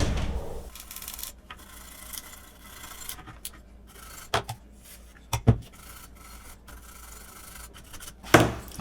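Scrubbing and rubbing as the connectors of a Ketron Midj Pro are cleaned, close and fairly quiet, with a few sharper scrapes and knocks scattered through.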